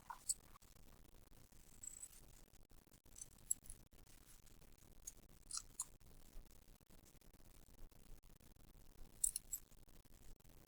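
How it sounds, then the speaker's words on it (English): Scissors snip paper along drawn lines in a crafts project, with quiet, scattered clicks and cuts up close, faint and irregular with short pauses. "Then cut on your lines."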